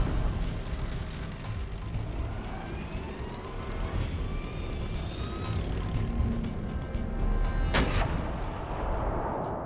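Tank main gun firing at a distant target, heavy rumbling blasts and a sharp crack near the end over a constant mechanical din of armour and engines.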